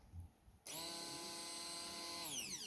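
A Braun MQ50001MWH hand blender switches on abruptly and runs with a steady, loud motor whine that holds, then winds down slightly near the end.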